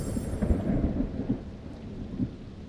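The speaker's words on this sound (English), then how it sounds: "Yes, a storm," Cartoon thunderstorm with continuous low rumbling thunder and steady rain noise, a few louder rolling peaks scattered through, heard alone without voices.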